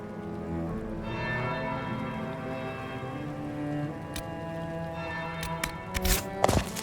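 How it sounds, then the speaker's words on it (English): A bell tolls at a distance in a Dragon Age Inquisition scene, its ringing tones sustained and fairly faint, followed by a few sharp thuds and footsteps near the end. "That's the bell."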